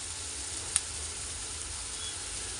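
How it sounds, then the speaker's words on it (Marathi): A paste of garlic and green chili sizzles in frying onions, a steady soft hiss of frying that runs throughout with one small click, close and fairly quiet, with no talking. "आपण लसूण आणि जी मिरचीचं जे वाटण केलेलं होतं ते टाकत आहोत."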